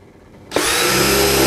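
DeWalt DCD805 cordless drill drilling steel with a 10 mm bit in drilling mode at speed 2, silent at first, then the motor kicks in abruptly at about half a second and holds a loud, steady, grinding whine.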